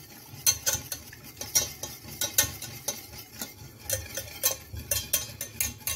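A wire whisk beats gelatin into cherry juice in a bowl, giving steady, rhythmic clicks and scrapes against the sides at close range, with no talking.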